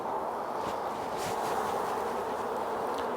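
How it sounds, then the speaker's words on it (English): Honey bees from a nucleus colony hum in a dense, continuous buzz as they are shaken off the top of a hive frame, close and steady, with no voices. "we've got a lot of bees that have congregated on the top of the frame, so I'm just going to shake those off"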